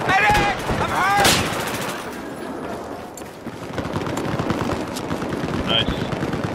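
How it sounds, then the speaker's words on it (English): Bursts of machine gun fire in the video game Battlefield 4 sound amid layered battlefield gunshots and explosions, with shouted voices over the rapid rattling. "hostile machine gunner, just snap in your position!"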